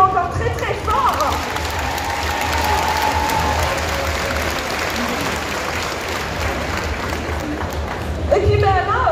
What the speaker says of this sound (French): vous pouvez les applaudir encore très très fort